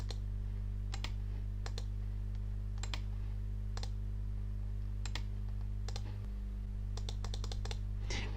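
Computer mouse clicks while setting PowerPoint animations, sharp single and double clicks spaced irregularly, with a quick flurry near the end, over a steady low electrical hum.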